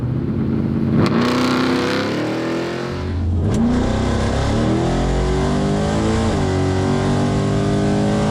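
1972 Camaro drag racing at Barona, engine revving hard in rising pulls with sharp gear shifts between them, loud and close throughout.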